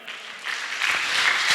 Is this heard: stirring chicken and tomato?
no